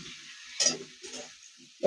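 Hilsa fish head frying with vegetables for a Malabar spinach chorchori, a soft sizzle under a few sharp stirring scrapes and spatula clinks in short bursts.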